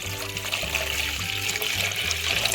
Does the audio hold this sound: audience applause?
no